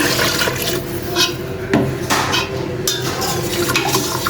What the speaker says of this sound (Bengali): এদিক দিয়ে মশলা কষানোর পরে আমি এই যে ঝোলের পানি দিয়ে দিলাম।